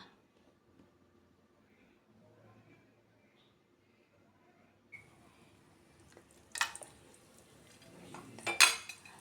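Cardamom, cloves and cinnamon are stirred in a pressure cooker while making Kerala chicken biryani. It is mostly quiet and faint, with a few metal scrapes and clinks of the spoon against the pot near the end.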